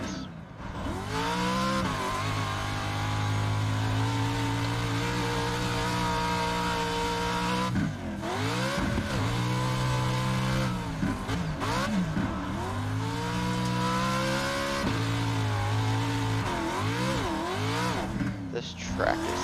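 A Pro 4 race truck engine revs hard and climbs through the gears, with several rising pitch sweeps and brief drops at the shifts, loud and continuous under occasional talk.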